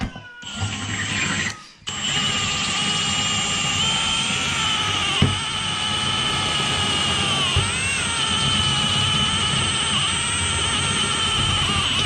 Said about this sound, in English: When using these step drills, always go slow too.